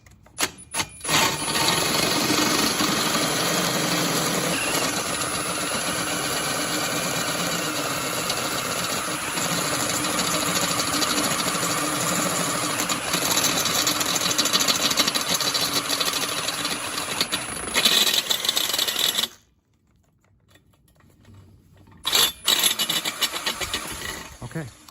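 A power drill drives a step drill bit through steel for a John Deere X570 lift frame, making a loud, steady grinding whine for about twenty seconds up close before it abruptly stops, with a couple of short bursts after.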